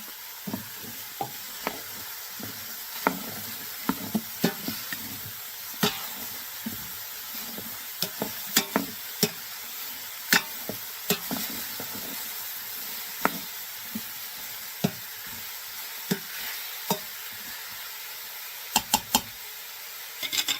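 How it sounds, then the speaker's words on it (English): Poblano chilies sizzle and fry steadily in an Instant Pot stew pot, a soft continuous hiss broken by frequent sharp knocks and scrapes of a stirring spoon, with no talking. "Now I'm going to add these poblano chilies. I want these to brown a little bit too."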